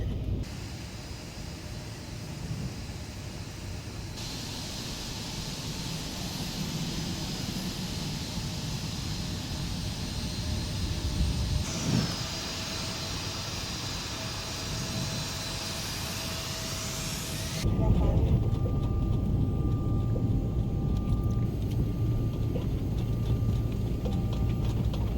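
Simulated Embraer 195 jet taxiing in X-Plane 12 gives a steady engine whine and hiss at moderate level, shifting in tone partway through, with no talking.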